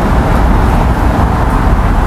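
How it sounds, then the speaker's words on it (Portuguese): Car traffic moving along Avenida do Estado in Balneário Camboriú, a loud steady roadway roar of passing vehicles heard close up, with no one talking. "Ó, o movimento dos carros."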